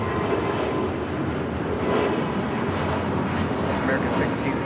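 An Emirates Airbus A380 rolls for takeoff at LAX, a steady broadband engine roar with low rumble that holds constant through the clip, blended with wind noise and faint background voices.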